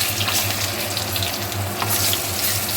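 Whole cumin, garam masala spices and two bay leaves tempering in hot oil for a Bengali prawn curry, a steady broadband hiss and crackle that holds loud and close throughout, with no talking.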